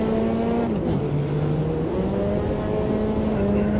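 A GTO race car engine in the sim game Automobilista 2 drones loudly and continuously, its pitch shifting with throttle lift-off and gear changes, alone without talk.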